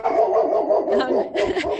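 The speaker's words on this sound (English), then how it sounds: "why is my dog barking so loudly?" A dog barks loudly indoors in a home where contractors are working: a few sharp, close barks with whimpering yips between them, heard alone without talk.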